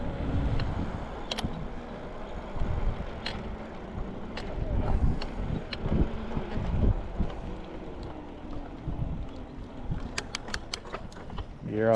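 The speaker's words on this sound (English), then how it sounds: "The noise you hear is the hub, the tires on the road." A 1500 watt 52 volt rear direct-drive hub motor kit on a Mongoose XR Pro bike rolls along a road, giving a low, steady whir and tire rumble under heavy wind noise, with faint clicks and bumps along the way.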